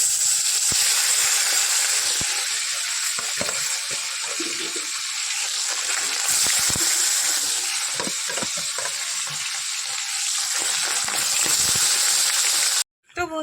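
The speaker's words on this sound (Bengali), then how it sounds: "মাছে হলুদ নুন মাখিয়ে নিয়েছি, তেল গরম হয়ে গেছে, চলো দিয়ে দিই" Turmeric- and salt-rubbed fish fries in hot oil, giving a constant loud sizzle with occasional stirring clinks and scrapes, broken by a brief dropout near the end.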